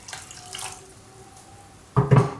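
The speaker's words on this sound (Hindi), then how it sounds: "और अब हम इनको थोड़ा वॉश करेंगे। तो इसके लिए यहाँ पर मैं इसमें पानी डाल दूंगी" Water is poured from a tap into a bowl of small chopped garlic pieces for washing, a short close splash of running water rising suddenly near the end after a quieter background.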